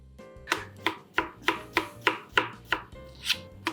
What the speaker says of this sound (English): Let's begin with slicing onions.